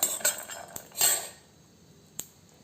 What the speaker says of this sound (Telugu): ఆ ధనియాలు కూడా వేసి బాగా వేయించుకుందామండి